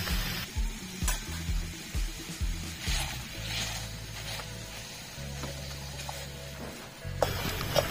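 Apple chutney cooking in a pan, its chunks being stirred and mashed, makes soft rhythmic scraping strokes over a low sizzle, close and fairly quiet, with a few sharper clinks near the end.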